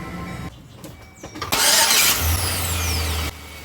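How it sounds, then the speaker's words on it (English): A 1999–2006 Chevy Silverado 1500 truck engine starting after a starter replacement: a brief clatter and clicks, then the starter cranks and the engine catches with a loud burst, settling into a steady close idle. "Gonna give it the first start, see what happens if it's still making that noise."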